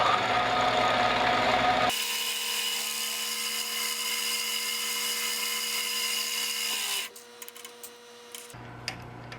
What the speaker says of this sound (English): Start with a smaller drill because the first drill always walks around and makes an oversized